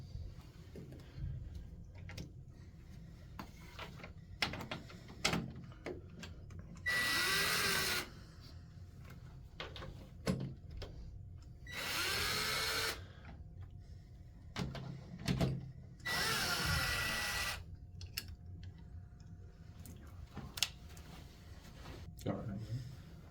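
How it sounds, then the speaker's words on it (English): A power drill with a 3/8 socket removes nuts from the top of a window motor, whirring in three separate bursts of a couple of seconds each, with clinks and handling noises in between. "Next, we're using a 3/8 socket and a drill."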